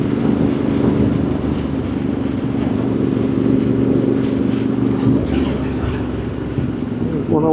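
An old motorcycle arrives at a vintage Japanese motorcycle club meeting, a steady loud engine rumble that holds level throughout and sounds nearby.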